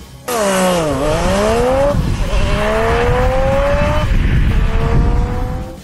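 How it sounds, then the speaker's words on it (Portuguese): A Jaguar XJ220 supercar with a twin-turbo V6 roars loud and close for nearly six seconds, its engine note rising, dipping and climbing again through gear changes with a raspy, rally-car edge, heard alone. "o XJ220 tinha um V6 biturbo, que soava mais como um carro de rally do que como um supercarro tradicional"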